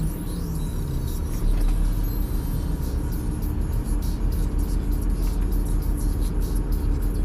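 Car interior on a short drive near Benthuizen and Alphen aan den Rijn, a continuous low engine and road rumble with tyre roar and faint rattles, steady and close throughout, with no talking.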